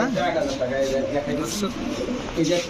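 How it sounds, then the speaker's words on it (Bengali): Racing pigeons at a pigeon farm give low, throaty coos close by, while someone talks loudly over the steady cooing. "হান্ড্রেড পার্সেন্ট রেসিং কবুতর"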